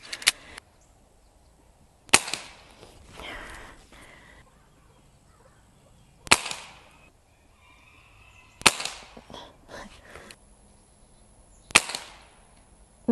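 A Seneca Dragonfly MK2 .177 pneumatic pump airgun fires several sharp, loud cracks spaced a few seconds apart, with quieter handling and pumping noises between shots.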